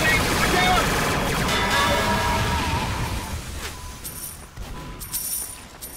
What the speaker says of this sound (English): The power of explosions.